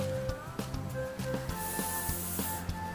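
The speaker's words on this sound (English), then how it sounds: "Next, you have to try to blow the balloon up." Breath blown into a balloon stretched inside a bottle makes a breathy hiss through the middle stretch, set against a steady background of tones and rhythmic ticks.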